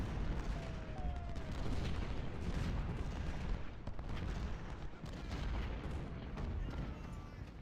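Artillery fire in the Ultimate General: Civil War battle of Nashville, a dense, continuous rumble of booms and crackling gunfire that stays loud throughout, with no break in the barrage.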